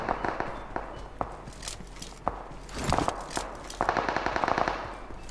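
Automatic gunfire in the video game PUBG Mobile rattles in repeated rapid bursts at moderate distance, mixed with footsteps and a steady background hum.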